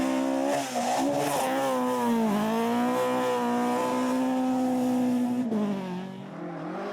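A historic rally car, a Mark II, revs hard as it recovers from a spin at the 2017 Killarney Historic Rally, its loud engine note rising and holding before easing off near the end.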